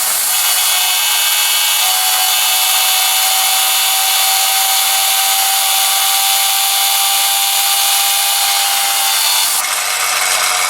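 A Tesla turbine driven by compressed air from a trompe runs at speed under load. It makes a steady, loud, high whirring hiss with no break until a slight change near the end, and no voices are heard.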